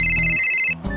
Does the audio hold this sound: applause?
no